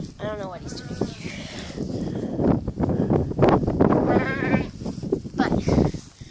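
Goats bleating in a farm pen, several wavering cries close by among shuffling and wind noise on the microphone, with a voice talking at times.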